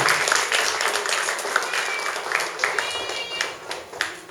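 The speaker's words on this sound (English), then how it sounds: "can you all please welcome them with a round of applause?" An audience gives a round of applause at a stage gathering, steady dense clapping throughout with a few sharper individual claps standing out near the end.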